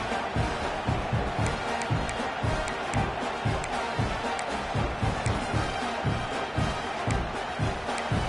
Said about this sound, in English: this crowd is deafening, trying to will the stop